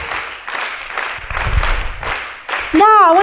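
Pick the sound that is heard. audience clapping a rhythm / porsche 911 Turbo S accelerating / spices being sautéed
audience clapping a rhythm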